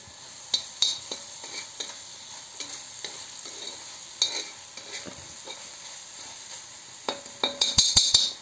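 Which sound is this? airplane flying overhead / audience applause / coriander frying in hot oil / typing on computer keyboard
coriander frying in hot oil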